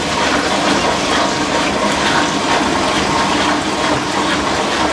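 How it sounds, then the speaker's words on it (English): A 1996 Whirlpool washing machine drains water with a steady loud gushing and pump whoosh that keeps going without a break. "Oh! It's draining. Okay, so we are draining there."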